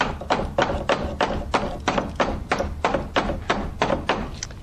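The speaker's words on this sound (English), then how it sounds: "Yeah, you just knock those nails back up in there." A hammer knocks nails back into a wooden window sill with about a dozen sharp, evenly spaced blows in quick, steady rhythm, close and loud.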